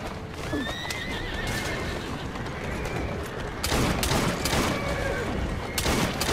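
A horse-drawn carriage in Assassin's Creed Syndicate rolls along with steady clip-clopping hooves and whinnying horses, while bursts of gunfire crack over the constant rumble.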